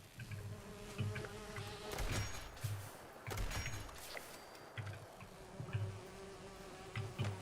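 Bees in the Fallout 76 video game, a continuous droning buzz with pulsing swells as insects swarm near, mixed with low game background rumble and occasional clicks, no talk.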